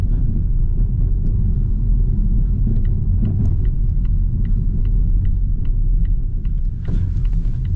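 A Volvo C40 electric car rolls over a rough road with a heavy, constant road rumble and a series of sharp suspension knocks and clunks, loud and close with no talking.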